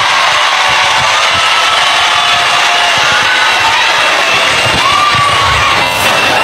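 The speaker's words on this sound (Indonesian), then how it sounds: "Tepuk tangan buat Gibran." A large crowd at a gathering cheers and shouts loudly and continuously for Gibran, a thick, sustained roar with whoops rising above it, close and without pauses.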